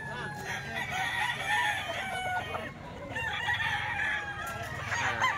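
A Hatch Gray gamecock rooster, about eight months old, crows repeatedly with clucking from other fowl around it, loud and close against a busy farmyard background.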